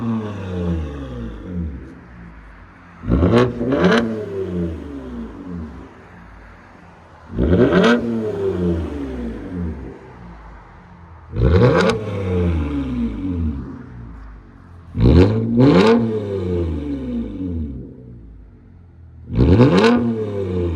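A 2023 Toyota Camry TRD with a 3.5L V6 and straight-pipe exhaust is revved in five or six loud, sharp bursts, each falling back to a rumbling idle between blips.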